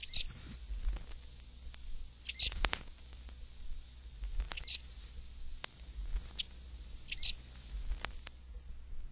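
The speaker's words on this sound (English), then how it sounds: "212, Rusty Blackbird." Four short, squeaky Rusty Blackbird calls, each a high creaking note, spaced a couple of seconds apart against a quiet background.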